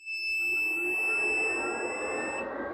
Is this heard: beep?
yes